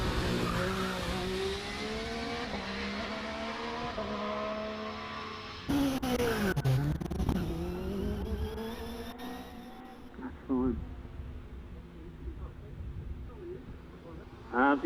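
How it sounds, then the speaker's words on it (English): GR55 Cosworth V6 hillclimb race car accelerating hard up the course at Loton Park, engine revving through rising and falling gear pitches with a sharp shift dip, fading into the distance while a commentator talks over it. "Andy Coley in the GR55 Cosworth V6 powers out the museum, heading for the finish"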